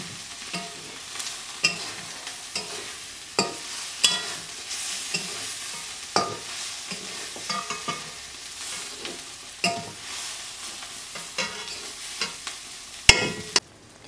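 Prawn masala fries on a wood-fired stove with a quiet, steady sizzle, punctuated every second or so by sharp scraping stirs and taps of a spatula in the pan.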